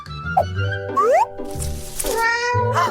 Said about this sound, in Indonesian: Mengapa bayi mengeong?